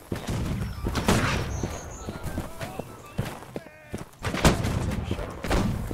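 Mortar fire in the Napoleonic-era multiplayer game Holdfast, with heavy booming blasts standing out among scattered gunfire, hoofbeats and battlefield clatter.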